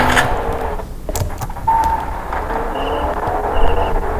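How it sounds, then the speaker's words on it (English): A car driving in the video game Fortnite, a steady low engine rumble throughout with a few short clicks and tonal game effects over it. "Yeah, I think I hear a car, bro."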